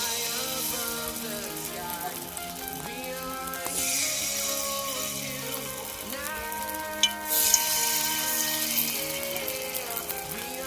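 Potato and egg pakora batter fries in hot oil in a wok with a steady crackling sizzle that swells briefly midway, heard over faint background music.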